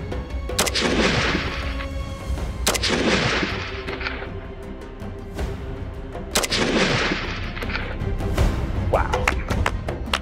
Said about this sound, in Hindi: सर तीनों शॉट्स मुझे लग रहा है कि तीनों शॉट्स लगे हैं टारगेट पे